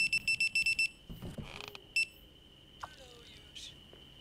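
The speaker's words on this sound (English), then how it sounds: "So much beeping." Repeated electronic beeping in the driving game Jalopy, a quick run of short, even beeps at the start, then scattered single tones and clicks among quieter game noise.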